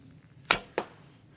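An arrow from a fiberglass takedown English longbow thwacks sharply into a target, then a second quick impact a split second later, both crisp and close against a quiet background.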